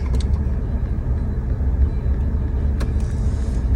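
A 2019 Ford F150 truck engine idles with a steady low rumble, heard up close, with a couple of faint clicks over the constant drone.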